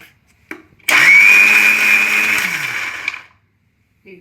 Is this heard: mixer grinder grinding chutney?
yes